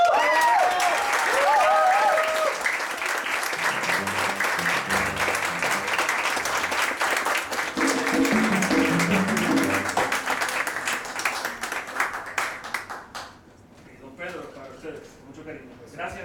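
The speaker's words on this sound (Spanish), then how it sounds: "¡Aplausos para ustedes!" Audience applause at a Panamerican jazz concert, a dense sustained clapping from a crowd lasting throughout, with a voice speaking over it early on and the clapping thinning toward the end.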